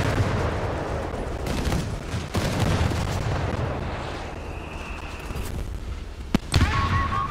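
Company of Heroes 3 battle: a machine gun rattles amid a rumbling wash of artillery and explosions, with a sharp loud blast near the end, no talking.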